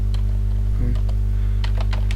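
Someone types on a computer keyboard while entering a date into an Excel spreadsheet: a few scattered key clicks with a short cluster near the end, faint over a steady electrical hum.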